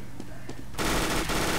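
Automatic gunfire in the shooter game CS:GO starts abruptly partway through, a loud dense burst of rapid shots after a quieter stretch of faint game ambience.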